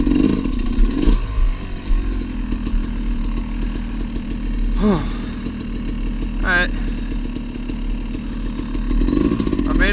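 A Yamaha YZ250X two-stroke enduro motorcycle engine drones steadily up close as it rides a rocky cattle trail, with rising and falling revs and clattering over rocks, while a voice talks intermittently.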